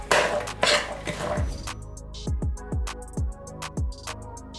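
A bowl of pasta salad with chopped salad and beans is stirred, giving soft wet tossing sounds followed by a run of bright clinking taps of a utensil against the bowl.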